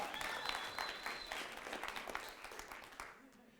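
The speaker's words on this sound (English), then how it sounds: "So give yourselves a round of applause." Conference audience claps in a sustained round of applause, moderately faint and gradually thinning toward the end.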